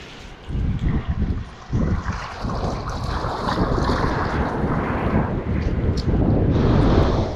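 Strong wind and heavy waves on a stormy seashore strewn with kelp, a loud continuous roar with wind buffeting the microphone and surging surf throughout.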